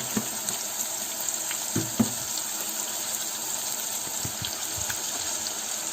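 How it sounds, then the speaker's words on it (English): Onion paste with ginger and garlic paste sautéing in a pan, a steady soft sizzle with occasional light stirring knocks, heard alone without talk. "I'm going to saute this till the raw taste of the ingredients disappears"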